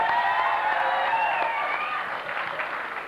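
A crowd at the Crested Butte Handicap Ski Fundraiser applauds in a dense, continuous wash of clapping mixed with some cheering voices, fading slightly toward the end.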